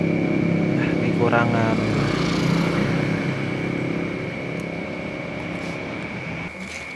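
A motorcycle engine, running without the spark plug cap installed, idles and is revved with the throttle, a steady mechanical drone with a brief rise; someone talks over it.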